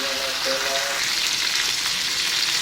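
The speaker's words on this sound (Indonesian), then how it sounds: "minyaknya panas, langsung aja kita tuangkan bumbunya. Kita tumis sampai benar-benar matang ya" Spice paste sizzles and fries steadily in hot oil for oncom, a loud continuous crackling hiss close by with no voices.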